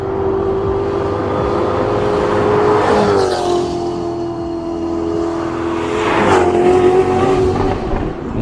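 A Lotus Elise Motorsport fitted with a Ferrari 488 twin-turbo V8 races uphill at a hillclimb, its engine screaming loud and close with sustained high revs, a brief dip near the middle and a fresh surge of acceleration, no talk over it.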